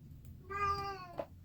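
A single drawn-out cat meow, close and fairly clear, rising and falling over about a second against a low background rumble.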